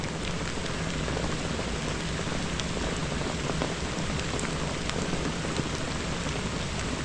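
Steady rain falls throughout while camping in the woods, a constant wash of drops with occasional sharper patters on a nearby pan, no talking.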